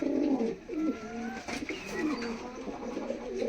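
Allahabadi pigeons coo close by, a series of soft warbling, rolling calls repeating one after another in a quiet setting.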